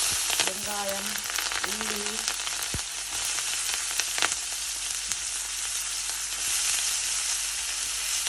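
Cumin, green chilli and fenugreek sizzling and frying in hot oil for a tempering, a steady close crackling hiss throughout with a few brief clinks of stirring.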